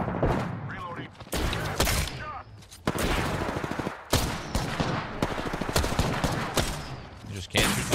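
Repeated bursts of video game gunfire, dense rapid volleys with short pauses, loud and close throughout, while a player talks over the shooting.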